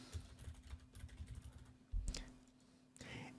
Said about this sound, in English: let's go ahead and type my name